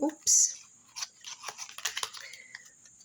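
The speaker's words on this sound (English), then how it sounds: "shuffle a card" A quick burst of papery riffling as oracle cards are shuffled, followed by soft scattered taps and slides of cards being handled, close and fairly quiet.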